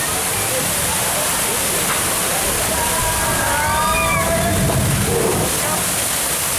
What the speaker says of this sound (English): We're gonna get splashed.